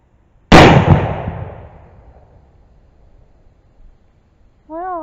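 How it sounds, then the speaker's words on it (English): A single sharp, loud report from a muzzle-loading pistol, the Plains Pistol, cracks once near the start and then rings out in a long decaying echo across open ground, followed by a brief tonal squeak at the end. "I don't guess it's too bad for a muzzle-loading pistol, and I haven't shot it in so long."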